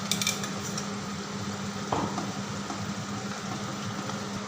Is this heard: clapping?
no